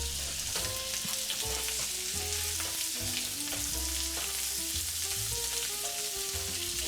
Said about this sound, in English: So he's going to fry up some shrimp.